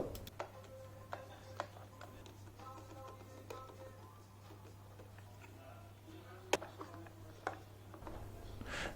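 Screws being twisted into the cleaning nozzle of a Karcher FC5 floor cleaner, heard as quiet, irregular small ticks and clicks scattered over a low steady hum, close by and with no voices.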